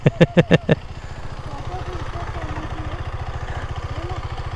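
A motorcycle engine runs nearby with a steady, pulsing idle-like chug that continues throughout as the bike arrives, preceded by a few sharp short sounds at the start.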